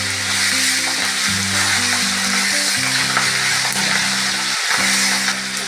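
Tomatoes with salt sizzling and spattering loudly in hot oil in a pan, a continuous close hiss with crackles, while steady background music plays underneath.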